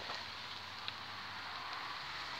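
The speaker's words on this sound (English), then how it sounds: "Started raining as well." Steady rain hisses continuously on surfaces nearby at a wild camp, an even wash of sound with a few faint drips standing out.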